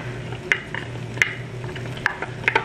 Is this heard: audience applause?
no